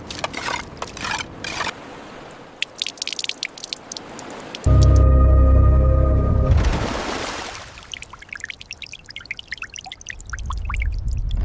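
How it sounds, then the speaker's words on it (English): Water gushes out of a container being lifted from the deep ocean during the salvage of a sunken Mercedes-AMG GT Black Series, a loud rushing pour in the middle amid scattered drips and splashes. "more water coming fast"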